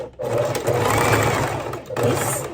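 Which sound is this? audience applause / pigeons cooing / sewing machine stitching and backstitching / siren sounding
sewing machine stitching and backstitching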